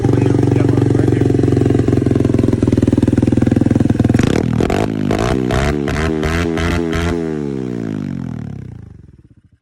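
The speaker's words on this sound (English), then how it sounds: "So the bike is up and running." A 150cc dirt bike engine runs loud and close, holding a steady drone before revving up and down in several sharp bursts, then settling and cutting out at the end.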